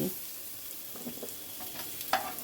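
Pumpkin and egg pieces being stirred in a frying pan, soft scraping strokes recurring over a quiet, steady sizzle of oil.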